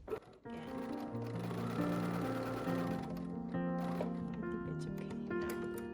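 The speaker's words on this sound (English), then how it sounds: "you flip it, and then you're backing on top of your sewing machine, and then stitch again" A sewing machine stitches binding onto a fabric pumpkin trivet, giving a steady mechanical whir with a humming, tonal drone that runs continuously after a brief start.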